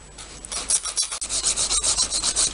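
A nail file rasps across a fingernail tip, shaping it from square to almond. The strokes come close and steady in a quick rhythm, with a brief pause near the start and no voice.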